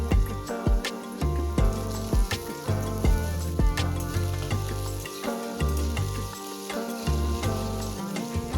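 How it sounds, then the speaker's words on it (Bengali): Diced potatoes frying in white oil in a wok send up a steady, loud sizzle with occasional stirring scrapes and clinks, no voices. "এবার কড়াতে সাদা তেল দিয়ে ছোট ডাইস করে কেটে রাখা আলু দিয়ে দেব।"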